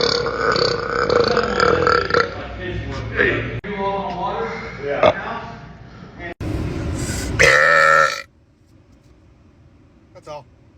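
A long, loud, deep burp rumbles close to the mic for several seconds, followed by a short louder gulp and then near silence with a faint later sound.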